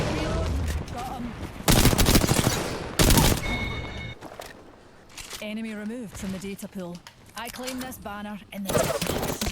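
Gunfire coming from all directions in the Apex Legends video game: bursts of rapid automatic shots and sharp single cracks hit in loud clusters, mixed with chaotic game effects and excited voices talking over the fighting.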